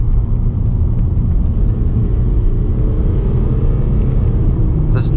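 A 2006 high-mileage Audi A6 Avant with a 3-litre V6 diesel, driving along: a steady, subdued low engine and road rumble heard from inside the cabin, smooth and even throughout.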